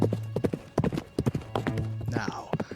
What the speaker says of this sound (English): I better leave the horses here.